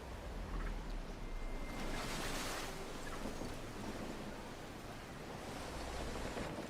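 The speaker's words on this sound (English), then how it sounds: "waves are huge" Sea waves in Assassin's Creed Black Flag roll and wash continuously as a broad, hissing surf with swells rising and falling, steady and fairly faint, with no talking.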